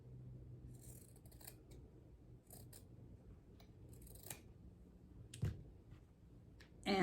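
Scissors trim quilt binding fabric in several short, crisp snips, close and fairly soft over a low hum, with a sharper rustle of handling at the very end.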